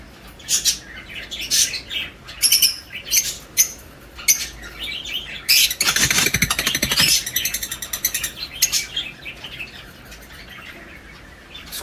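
Pet lovebirds in a cage chirp and tweet in quick, busy bursts, with a louder dense flurry of calls midway and some wing flutters, close and clear with no talking.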